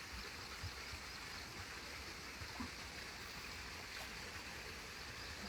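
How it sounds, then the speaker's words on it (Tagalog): Steady rushing water, like a strong current flowing continuously, heard at a distance with a soft, even roar and no voices. "Lakas ng agos ng tubig."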